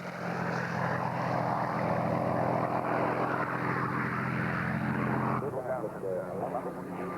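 A Messerschmitt 109 warplane flies past with its propeller engine droning loudly and steadily, while someone narrates over it.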